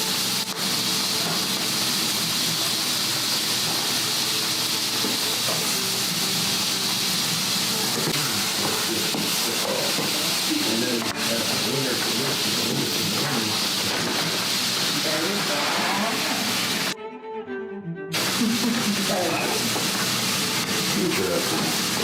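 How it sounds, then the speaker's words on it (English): Rice going into a hot pan with a steady, loud sizzle and hiss that runs almost without break, a brief drop in the middle, while people talk over it at an outdoor cooking contest. "The rice just went in the pan, John."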